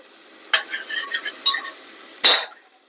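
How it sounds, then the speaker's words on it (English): Garlic and onions sauté in a pan with a quiet background hiss, punctuated by three short bursts of sizzle and stirring scrapes, the last one loudest. "I've sauteed my onions for a minute. I'm going to add just a little bit of garlic."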